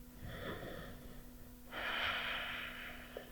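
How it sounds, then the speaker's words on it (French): Ujjayi breathing during Ashtanga yoga postures for beginners: slow, deep, hissing ocean-like breaths, a softer inhale then a louder, longer rushing breath, close and steady with no talk. "Toujours la respiration Ujjayi, calme, profonde"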